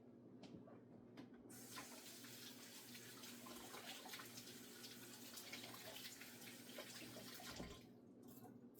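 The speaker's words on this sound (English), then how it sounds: "Rinse my hands." A kitchen tap runs steadily as hands are rinsed after cutting jalapeños for pico de gallo, a continuous close water rush that stops near the end.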